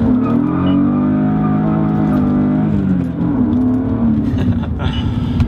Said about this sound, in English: To demonstrate number 4 on the list, we're gonna have to do a burnout.